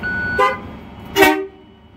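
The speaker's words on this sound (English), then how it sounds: "So, we'll start with the horn." A truck horn sounds two short blasts, checked from inside the cab. The second toot is louder and longer, and there is a quiet pause between them.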